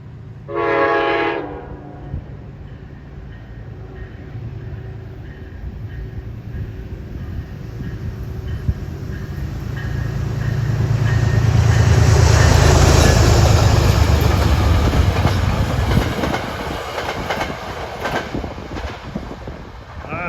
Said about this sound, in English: It's a short train.